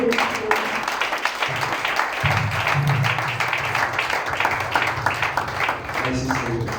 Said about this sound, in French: Put your hands together for the Holy Spirit.